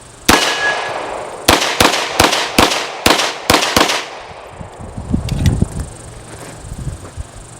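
Norinco Tokarev TT33 pistol firing 7.62x25mm rounds at a range, eight loud sharp cracks in quick succession, then quieter handling clatter and rustling.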